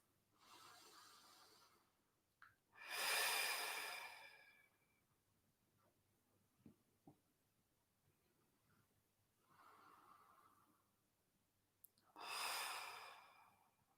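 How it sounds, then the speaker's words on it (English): Slow, deep breaths during a morning meditation: a soft inhale through the nose, then long, loud sighing exhales blown out of the mouth, repeated three times with quiet pauses between, close up. "take a few deep inhales through the nose, with exhales sighing or blowing the air out of the mouth"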